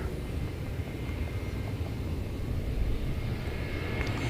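A T'way Air airliner at Incheon Airport produces a continuous broad engine rumble and roar, heard from a distance and holding steady without talk.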